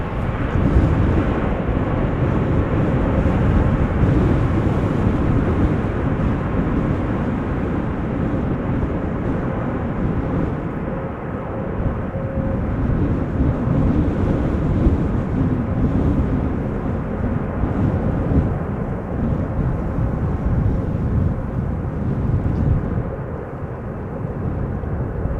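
A large airliner landing at Amsterdam Schiphol Airport in breezy weather, a long, steady, loud roar with deep rumble and wind buffeting, heard continuously from a distance without talk.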